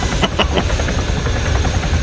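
A military video game helicopter roars loud and close with a dense low rotor throb and engine hum, broken by a few sharp transient clicks early on.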